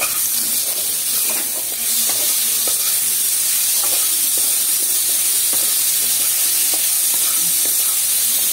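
Masala with garlic frying in a pan for aloo tamatar curry, a steady close sizzle with occasional stirring scrapes and small pops throughout.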